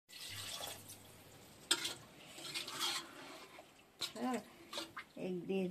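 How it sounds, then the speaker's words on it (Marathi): A brass jug of water is poured into a pot of village free-range chicken cooking over a wood-fired stove, a splashing gush with metallic clatter of pot and vessel, and a voice talking nearby. "1 तांबे पाणी टाकायचं त्यामध्ये"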